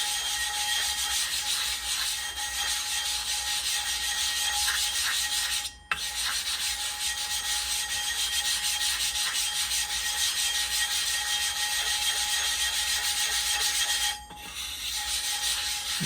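Steady abrasive rubbing as grit is spread across the spinning wheel of a Nebraska Blades clipper blade sharpening machine, a continuous close scraping hiss with a faint hum, broken by two brief pauses.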